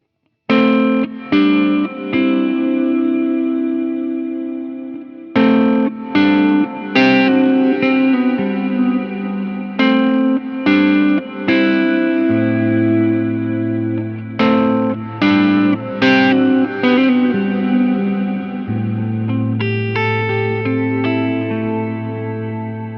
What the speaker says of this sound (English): this one fades in gradually like a bowed instrument or synth pad.